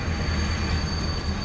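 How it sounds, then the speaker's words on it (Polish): Train in a farming video game, a steady low rumbling roll with a faint high whine running through it, continuous and fairly loud for the whole stretch. "otwórz mnie ten pociąg"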